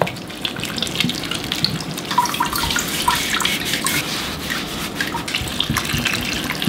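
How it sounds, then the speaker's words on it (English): Shower water pours steadily over the leaves of a neglected houseplant, a close, continuous splashing and hissing rush with faint dripping, running without pause and with no voices. "I'm honestly just gonna throw it in the shower and like hose it down that way"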